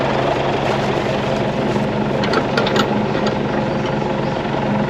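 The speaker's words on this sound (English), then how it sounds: "Still running the old style baler where you got manually lower the pickup." An old-style hay baler with a manually lowered pickup runs steadily and loudly, a continuous droning engine rumble with mechanical clatter and no breaks.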